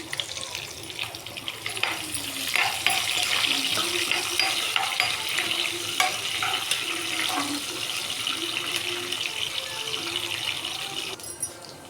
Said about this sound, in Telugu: వేగాక ముందుగా కట్ చేసి పెట్టుకున్న ఉల్లిపాయ, ఎండుమిర్చి వేసుకుందాం.